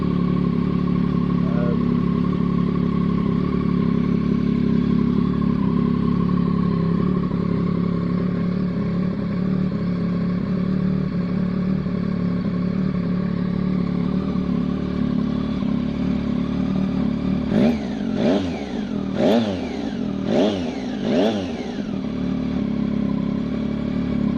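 A Yamaha MT-09 motorcycle with an aftermarket exhaust idles with a loud, deep, rumbling exhaust throughout, then revs sharply several times in quick succession before settling again.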